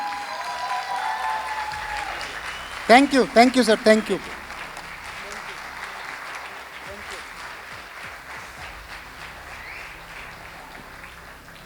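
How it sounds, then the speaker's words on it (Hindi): A short burst of audience clapping rises and fades within a couple of seconds, followed by someone speaking over faint room noise. "एक बार जबरदस्त तालियां"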